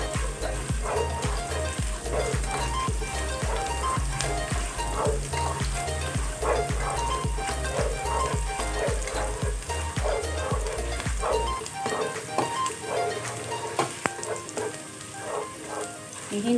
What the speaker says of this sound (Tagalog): lalagay na natin itong garlic.